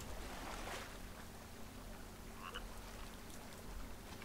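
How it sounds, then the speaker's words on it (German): In the survival video game The Forest, a frog croaks in a quiet outdoor scene, a few soft, distant croaks over a faint ambient background with no talking. "Wieder ein Frosch."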